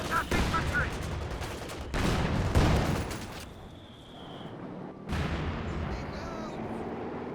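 Gunfire and tank cannon blasts in a Company of Heroes 2 battle against a P4 tank, sharp bursts and booms rolling into a quieter stretch, with a voice speaking over the fighting.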